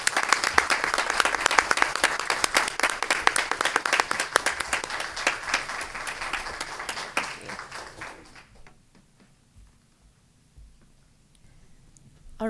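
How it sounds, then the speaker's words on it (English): A school board meeting audience applauds the team, sharp individual claps merging into a loud, dense round that fades after about eight seconds to scattered claps and quiet. "let's give one more round of applause for the team"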